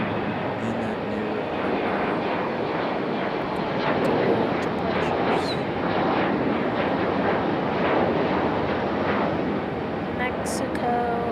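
Aeromexico airliner bound for Mexico City at Raleigh-Durham International, its broad jet engine roar steady and loud throughout, with talk faintly present.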